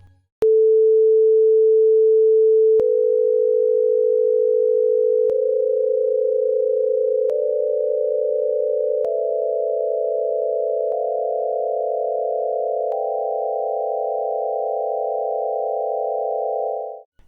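A series of pure electronic tones steps up a B C D E F G scale, each held about two seconds and joined smoothly to the next, steady and loud with a slightly rough, distorted quality.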